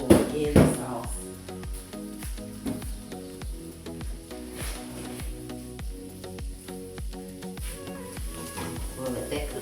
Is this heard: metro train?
no